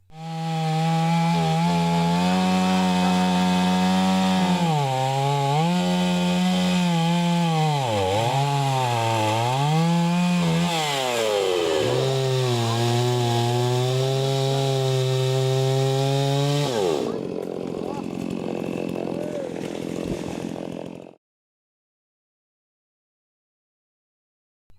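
A chainsaw drones loudly and continuously, its pitch dipping and rising as it bites into wood, then cuts off, leaving silence.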